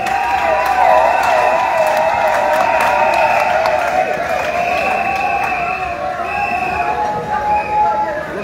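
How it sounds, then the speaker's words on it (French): A crowd cheers and applauds at a cheque-handing ceremony for the wives of FARDC soldiers, a steady, loud wash of clapping and shouts that lasts throughout. "Nous acclamons très fort."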